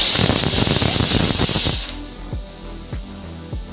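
A pressure cooker on a gas stove, cooking sambar, lets out a loud steady hiss of escaping steam that cuts off sharply, followed by a few quieter sputtering bursts.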